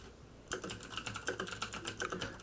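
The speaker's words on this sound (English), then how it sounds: "I hear Gonzo typing away" Rapid, close keyboard typing starting abruptly after a brief quiet moment, a dense rattling run of crisp keystrokes that continues steadily with no voices.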